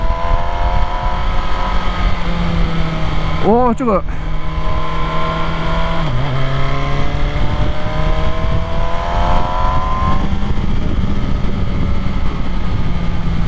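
On a test ride, the MV Agusta Brutale 1000RR engine hums close and loud, its revs rising and falling in smooth sweeps. A rider talks over it.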